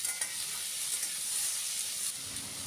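Onion, potato and tomato frying in a pan while being stirred, a steady bright sizzle with soft scraping of the spoon, close and alone without talk.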